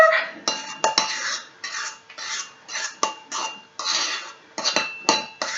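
Scone dough folded together in a bowl, giving repeated scraping, clinking strokes of a utensil against the bowl in an irregular rhythm, close and fairly loud with no talking.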